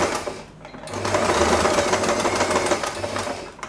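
A sewing machine stitches through a thick, bulky bow knot headband, running in a steady buzzing burst for most of the moment after a short pause, close and fairly loud.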